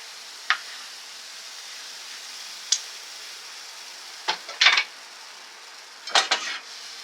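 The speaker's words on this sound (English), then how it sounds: "Fried bananas with some sugar and cinnamon and nutmeg" Bananas frying with sugar, cinnamon and nutmeg in a Made In ceramic non-stick pan, a soft steady sizzle broken by a few sharp scrapes and clacks from a wooden ladle.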